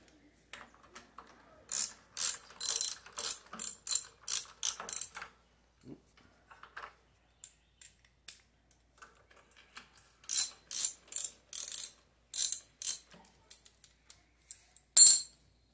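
Swivel head ratchet turning on tight 7/16 bolts of an engine on an aircraft being revived after 20 years, in two bursts of rapid close clicking separated by a quieter stretch of scattered ticks and small metallic taps.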